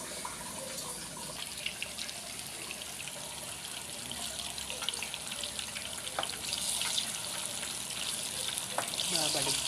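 Ripe bananas frying in hot oil in a home kitchen, a steady close crackle and sizzle with scattered pops that thickens toward the end, with faint water-like hiss underneath.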